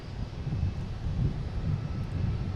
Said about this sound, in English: We have WestJet coming in from Calgary.